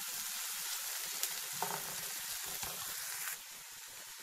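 Green onion, onion and thin-sliced garlic frying in a pan and being stirred, a steady close sizzle with occasional scraping stirs and no talk.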